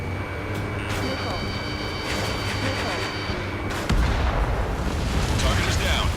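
Missile explosions in the combat flight game Ace Combat 7, heard as booming blasts and rumbling gunfire layered with engine drone and radio voices, with a heavier burst breaking in near the end.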